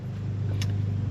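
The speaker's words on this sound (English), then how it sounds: "apologize if you can hear the mower in the background" A lawn mower hums steadily in the background near a classic car under maintenance, a constant low drone with no talk over it.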